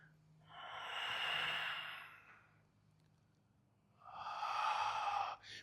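Two long, deep breaths during a yoga triangle pose, each a soft, airy exhale of a second or more, separated by a quiet pause and heard alone up close.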